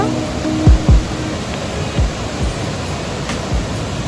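Water at a waterfall near Warangal rushes in a loud, steady, wide hiss that fills the whole clip, with a few dull low thumps scattered through it and no speech.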